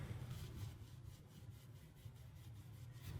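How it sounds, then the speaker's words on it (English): A Scotch-Brite pad scrubs a foot peg pin from a KX450 dirt bike, producing quiet, steady back-and-forth rubbing strokes up close with no voices. "I'm just going to clean it with some Scotch-Brite"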